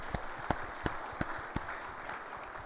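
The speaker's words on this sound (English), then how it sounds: "how about one more round of applause for these wonderful entrepreneurs here" Audience applause for entrepreneurs at a banking conference event, a soft wash of clapping with a few sharp, louder nearby claps standing out at a slow, irregular pace.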